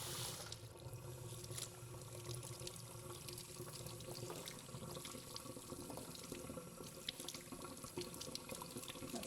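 Tap water runs steadily into a kitchen sink while raw crabs are cleaned out and washed for a Sri Lankan crab curry, a continuous close splashing stream with small knocks and clatters throughout.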